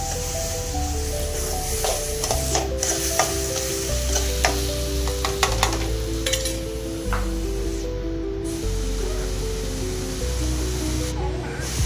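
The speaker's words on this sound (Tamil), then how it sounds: "இஞ்சி பூண்டு பேஸ்ட், பச்சை வாசம் போகிற வச்சு வதக்கலாம்." Ginger garlic paste and onions sautéing in a pan for chicken kuzhambu, a constant loud sizzle and hiss with intermittent stirring scrapes and a steady background hum throughout.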